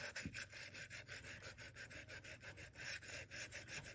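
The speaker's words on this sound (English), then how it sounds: "I'm going to sand the top" A quiet, rhythmic back-and-forth rasp of sandpaper across the top of a polymer clay cabochon, with steady, even strokes up close.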